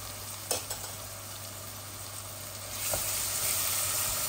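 Onions frying with a little turmeric in a Bangladeshi cooking pot, a steady close hiss of sizzling that swells louder partway through, with a couple of stirring clanks.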